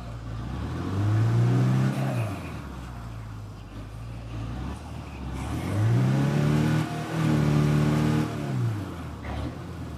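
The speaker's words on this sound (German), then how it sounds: "Oh, ein Auto." A car engine in the video game State of Decay 2 revs up twice, its pitch climbing and falling in long, loud sweeps over a steady low idle.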